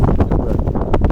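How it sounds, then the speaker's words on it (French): Strong wind buffeting the microphone in a vegetable garden with shallots and new potatoes, a loud, steady low rumble with gusty rustling throughout and no voices. "Il y a aussi beaucoup de vent."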